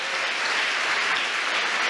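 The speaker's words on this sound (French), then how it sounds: "Applaudissez-le encore une fois" An audience at a university thesis competition final applauds steadily, dense clapping filling the hall at a constant, fairly loud level throughout, with no speech over it.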